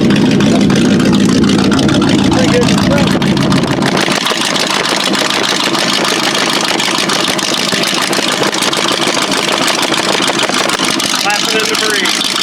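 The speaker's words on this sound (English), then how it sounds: "Love the exhaust on this thing." A Chevy K20 pickup truck with loud exhaust idles nearby with a heavy, continuous rumble, the tone shifting after a few seconds, while someone talks briefly over the engine noise.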